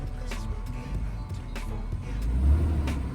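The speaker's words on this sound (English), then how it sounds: "But yeah, car's on, starts. Idle's a little rough." A restored BMW's engine idles roughly and steadily, a low uneven rumble up close that swells slightly toward the end, with no talking over it.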